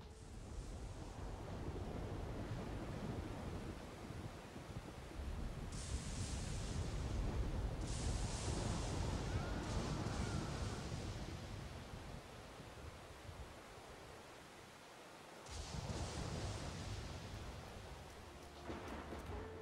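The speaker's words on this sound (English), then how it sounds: "The mod also adds directional sound and a customizable echo and compression effect to the sound" Thunder from a lightning bolt in the game GTA IV with the Project Thunder mod, heard as loud sustained rumbling over steady rain, swelling into a long roll midway, dipping briefly, then another crack and rumble near the end.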